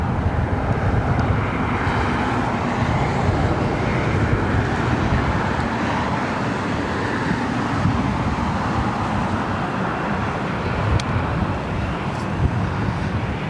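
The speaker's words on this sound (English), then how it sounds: "So we got a couple of heavies up next. Air France, followed by the Lufthansa Queen." A heavy Air France airliner passes at LAX as a steady, loud broadband engine roar that holds without letup throughout, no talk over it.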